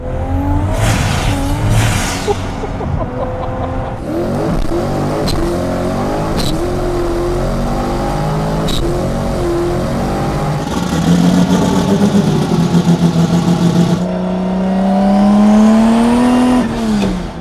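An EV-swapped Ford Fox body with a 5-speed manual drives along, its electric motor whining and rising in pitch through shifts, dropping back between gears, loud and close inside the car, with no talking.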